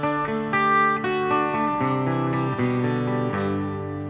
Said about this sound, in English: Here's some acoustics, an acoustic 12-string.